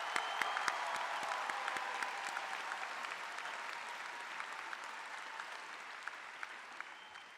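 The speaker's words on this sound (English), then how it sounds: "Can we give a round of applause last time for our class of 25?" A round of applause for the graduating class of 2025 at the McKinney Boyd High School graduation, a large crowd's sustained clapping that is fairly faint and distant, with a few sharper claps standing out as it slowly fades.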